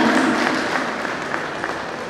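An audience at a police arts and award ceremony claps steadily, a dense wash of applause with faint individual claps, fairly loud and continuous throughout.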